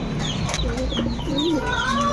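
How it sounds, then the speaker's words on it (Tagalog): Racing pigeons in a house-to-house loft coo softly amid steady background noise, with faint bird calls and low murmurs scattered through. "Ayan mga kalapatid si Utoy, oh"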